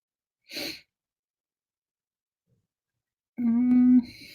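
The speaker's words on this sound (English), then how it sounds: "I hear you snoring now, Coco." A dog named Coco snores: a short breathy snort, a long pause, then a longer nasal, droning inhale, close and quiet with no talk.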